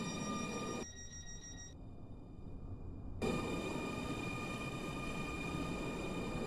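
A Connect passenger train in the Stepford County Railway video game runs with a continuous rumbling drone and steady tonal hum, a brief quieter stretch in the middle before the full running noise returns.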